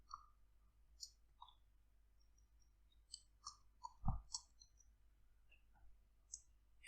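Sparse mouse clicks on a computer while building a social media website in WordPress, about a dozen short sharp clicks scattered irregularly, close and fairly quiet, one slightly louder double click near the middle, with no talking.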